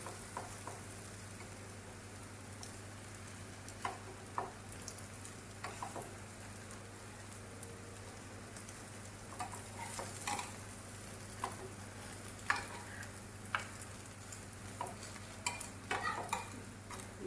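Potatoes frying in a pan for aloo bhaji, a steady low sizzle with scattered scraping clicks of a spatula stirring, close and continuous.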